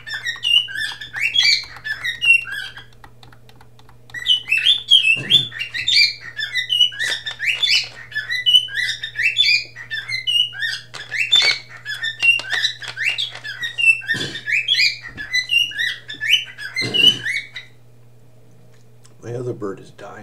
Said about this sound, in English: Waiting for my bird to shut up.